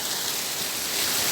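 Steady heavy rain pours down at an outdoor relief kitchen post in Banda Aceh, a dense, even hiss of drops on surfaces filling the whole moment with no voices.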